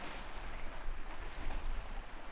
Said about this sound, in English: waves are slowly coming in and lapping, and as they recede into the depths